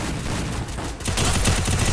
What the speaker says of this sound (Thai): เฮ้ยมันยิงกัน มันยิงกันมันยิงกัน